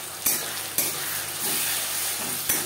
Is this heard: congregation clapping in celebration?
no